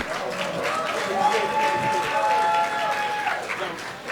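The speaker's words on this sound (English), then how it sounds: "Oh, I can hear the Ghanaians applauding" A Ghanaian audience applauding during a ceremony at Osu Castle, sustained crowd clapping filling the hall with murmured voices and a faint tone running underneath.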